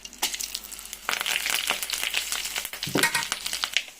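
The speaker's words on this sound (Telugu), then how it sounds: "ఈలోగా బాండీలో నూనె పోసుకుని పోపు దినుసులు ఇలా వేసుకోవాలి." Tempering spices crackling in hot oil in a pan, heard as a dense, close, steady sizzle with rapid popping bursts throughout and brief scraping stirs, with no voices.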